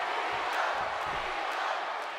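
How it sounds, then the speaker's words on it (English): A wrestling arena crowd in WWE 2K17 chants for John Cena during a Bret Hart match, a broad, steady roar of many voices with faint rhythmic pulses, filling the space evenly. "The crowd are chanting for Cena"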